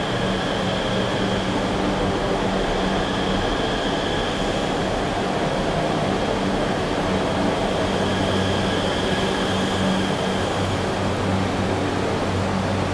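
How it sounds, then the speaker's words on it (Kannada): A Namo Bharat RRTS rapid rail train runs with a steady, loud broadband rumble and faint tonal whine, continuous and close throughout with no talking. "ಸೊ ಇದೇ ನಮ್ಮ ನಮೋ ಭಾರತ್ ರ್ಯಾಪಿಡ್ ರೈಲು."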